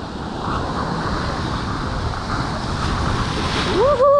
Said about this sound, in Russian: смотри, как волна идет